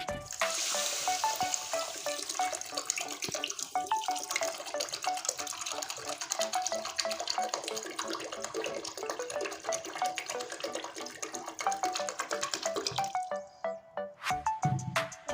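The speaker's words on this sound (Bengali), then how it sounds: "আর আমি জল দিয়ে দিচ্ছি" Water pours into a pot of about half a kilo of sugar to make rasgulla syrup, a continuous close splashing trickle that runs for most of the stretch before tapering off near the end.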